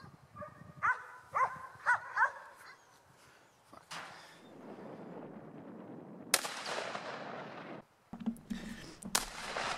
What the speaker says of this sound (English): what I'm going to do is just set up a chunk of sodium and shoot it with the 2506